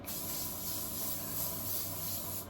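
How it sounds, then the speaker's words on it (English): Shine spray hissing from a can onto hair in a steady, close continuous burst, with no talking. "I'm like going to spray it like fucking everywhere"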